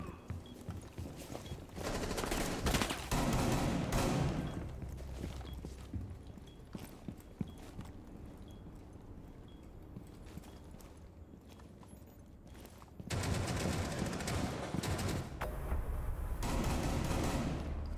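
Gunfire in the shooter game Rainbow Six Siege, sharp repeated shots and clatter in bursts at the start and again near the end, with quieter scattered clicks and footsteps between them.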